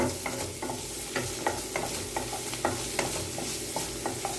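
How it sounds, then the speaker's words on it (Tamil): Onion, tomato and fennel seeds sauté in hot oil, a steady close sizzle broken by regular scraping strokes of a spoon stirring the pan, with no voices. "இப்போ எண்ணெய் விட்டுருக்கேன் இதில் சோம்பு வெங்காயம் தக்காளி சேர்த்து வதக்கிடலாம்"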